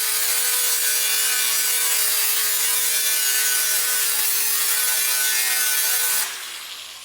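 A quarter inch is trimmed off folded sheet metal with a harsh, continuous rasping cut that runs steadily for about six seconds and then stops abruptly, leaving a faint residual hum.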